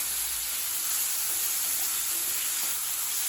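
Chicken pieces sauté in a pan with chili powder, ginger-garlic paste and salt for a chicken roll, giving a steady close sizzle and hiss with no talking.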